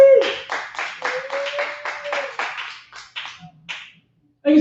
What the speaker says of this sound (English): So for the 4 people that clapped, you can stay in the room.